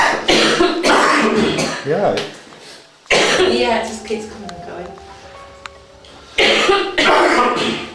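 A person coughing and clearing their throat in a public house during a night investigation, harsh close coughs in bursts, with people talking in between.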